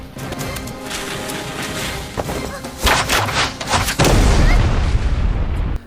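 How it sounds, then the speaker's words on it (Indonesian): A bomb thrown inside a building explodes in a martial-arts film scene, a loud sustained blast of booming, crashing rumble that swells and stays dense to the end. "Xiong dan anak buahnya pun melempar bom di dalam tempat itu, sampai terjadi ledakan yang cukup besar"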